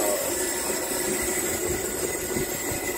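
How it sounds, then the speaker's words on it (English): A steam locomotive's injector hisses steadily at close range, forcing water into the boiler of a Glenbrook engine at a Great Western steam-up, a dense rushing wash of steam with faint mechanical rumbling underneath. "So that steam forcing water into the boiler to get its own pressure."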